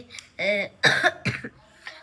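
Several harsh coughs and throat-clearing bursts from a person at home after a bus tour, coming in separate close bursts with short pauses between them.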